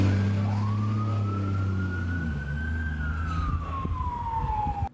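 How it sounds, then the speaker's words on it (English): A Spring Branch Fire and EMS fire truck siren wails in a long rising then slowly falling sweep over a rumbling engine, fairly close. "The sirens at the Boulevardi Spring Branch Fire and EMS Department seem to be getting lots of use lately"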